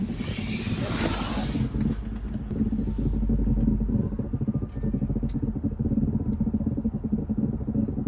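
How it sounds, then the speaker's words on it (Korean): A low, bubbling rumble like water boiling from a Tesla battery before a thermal-runaway fire, steady and continuous, with a brief noisy gust at the start and faint crackles throughout. "이 물 끓는 소리 들리시죠?"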